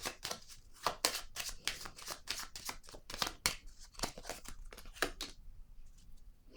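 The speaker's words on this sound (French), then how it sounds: "Là, je vais déposer une carte ici." Cards slapped and shuffled onto a table during a card game, a quick run of crisp papery snaps and flicks close by, tapering off toward the end with no talk.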